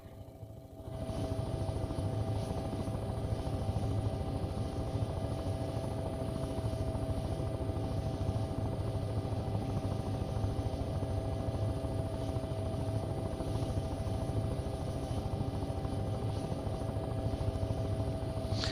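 A helicopter in the flight game Take on Helicopters settles onto a landing pad, its steady rotor thrum and turbine whine holding loud and constant throughout after a brief quieter start.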